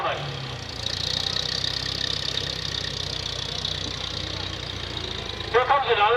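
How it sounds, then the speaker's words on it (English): An old tractor engine idles steadily as it rolls by in the Richfield, Wisconsin Thresheree Sunday parade, a low continuous rumble under an announcer's voice, with a brief burst of other noise near the end. "Here comes another tractor"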